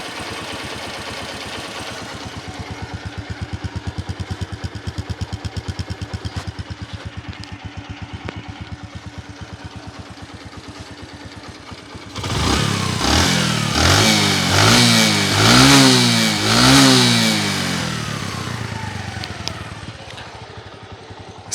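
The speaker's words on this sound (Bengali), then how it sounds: "আবার যদি আপনাদেরকে ভালো করে ইঞ্জিনের সাউন্ডটা শোনানোর চেষ্টা করি" A used Bajaj Platina 100cc motorcycle idles steadily with a soft even putter, then its engine is revved several times in rising and falling surges before settling back to a loud idle.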